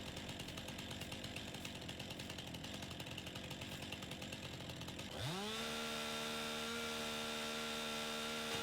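A chainsaw in Farming Simulator 19 roars loudly and steadily, then revs up sharply into a higher sustained whine about halfway through, running alone.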